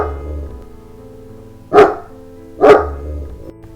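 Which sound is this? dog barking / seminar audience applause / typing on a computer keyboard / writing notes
dog barking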